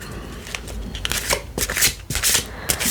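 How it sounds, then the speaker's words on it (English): Tarot cards are shuffled by hand at close range, a run of crisp riffling and soft papery flutters in uneven bursts, quiet and intimate with no talking. "I've been here shuffling these cards."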